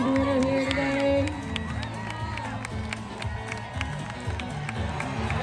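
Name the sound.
crowd cheering at Minnesota State Fair timber event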